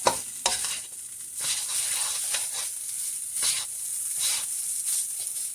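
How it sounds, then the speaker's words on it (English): Rice frying in oil in a pan while being stirred, a continuous bright sizzle with soft scraping stir strokes rising and falling, close and steady. "you just want to make sure that all the rice gets a little bit brown and coated with that oil"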